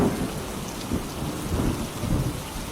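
Steady heavy rain pours down with low rumbles of thunder rolling underneath, fairly loud and continuous with no voices.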